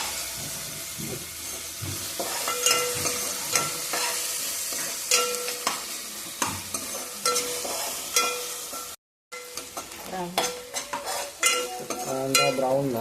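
Onion and tomato frying in a pan and being stirred, loud sizzling with repeated scraping strokes of a spatula, a brief cut to silence midway, then more stirring and sizzle.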